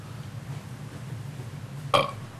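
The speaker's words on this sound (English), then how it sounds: "Well, it wasn't radio silence because technically you burped" A single short, loud burp erupts near the end of the clip, standing out above a quiet room background.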